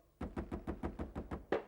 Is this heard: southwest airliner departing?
no